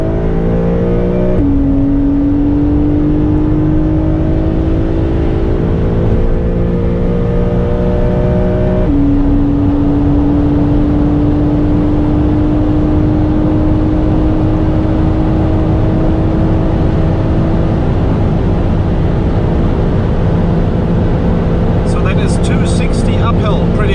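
A Porsche 992 accelerates hard on an uphill run through the Kasseler Berge, its engine climbing steadily through the gears with a shift change, loud and continuous from inside the cabin.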